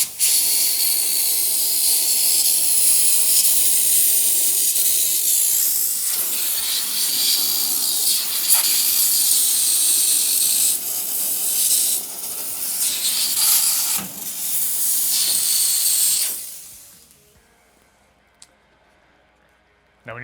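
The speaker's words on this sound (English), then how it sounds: "make sure you get just a nozzle and steam and go to town" A steam cleaner nozzle blasts steam into hotel room HVAC vents: a loud, steady hiss runs for about sixteen seconds, then cuts off, leaving quiet clicks and faint background.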